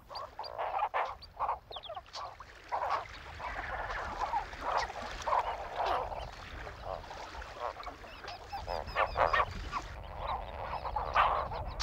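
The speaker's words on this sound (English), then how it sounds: "Huge colonies of flamingos come to the lake" Many flamingos calling at once in a lakeside colony in Ngorongoro, a dense chorus of honking, goose-like cries rising and falling steadily, fairly close, with no talking.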